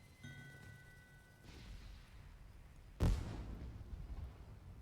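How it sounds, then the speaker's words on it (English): A dragon firework goes off in the video game LoTRO as a single sudden boom, followed by a crackling, fading rumble that trails over the game's soft ambient background and faint chimes. "Oh, it's the dragon firework."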